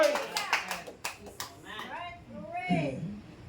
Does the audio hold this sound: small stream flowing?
no